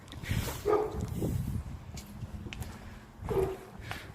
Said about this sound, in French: Ouais, un pitbull ou un bulldog là, vu le bruit